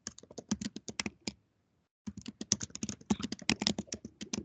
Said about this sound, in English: Whoever is typing, would you mind muting yourself?